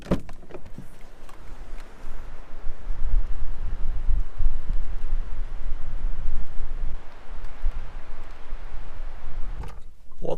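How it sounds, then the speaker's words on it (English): Strong wind on La Palma buffets the microphone in a steady, heavy low rumble with gusty surges, close and loud, throughout. "what the hell, it's super windy"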